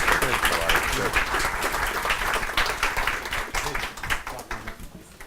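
Sustained crowd applause fills a hall at a talk on politics and the economy as the mayor walks in, dense and fairly loud at first, then thinning out, with voices mixed in.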